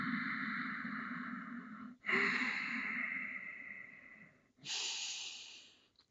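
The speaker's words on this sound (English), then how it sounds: "Slow, steady inhale in. Calming, relaxing exhale out." Slow, steady breaths during a yoga class: a long airy inhale, then a relaxed exhale, followed by another soft intake. The breathing is close and gentle, with no talking.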